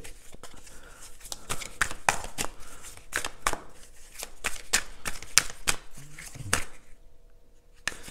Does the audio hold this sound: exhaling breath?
no